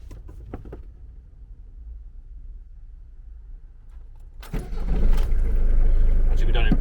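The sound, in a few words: motorhome engine being restarted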